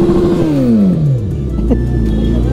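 A Kawasaki Z900 superbike exhaust revs loudly up close on a market street, its engine tone sweeping downward over a heavy, steady rumble.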